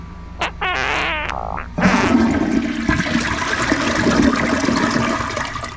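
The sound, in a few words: Glacier Bay toilet flushing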